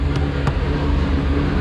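A Honda CRX engine runs loudly and steadily nearby in a garage, a dense continuous rumble with no pauses, up close and alone.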